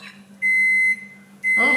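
A kitchen oven signals it has finished preheating with two steady electronic beeps, the first longer than the second, separated by a brief pause in a quiet room.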